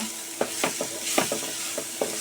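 Spice masala being stirred and fried in a pan with salt and a little sugar, a steady close sizzle broken by a series of quick spatula scrapes at an uneven rhythm.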